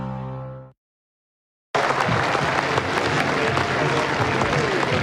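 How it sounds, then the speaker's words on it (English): A cricket crowd at a New Zealand v Australia Test match claps, with the applause bursting in loud and dense after a short silence and holding steady, preceded by a brief clip of unrelated sound. "A round of applause you hear as Matt Henry taking his position at long leg"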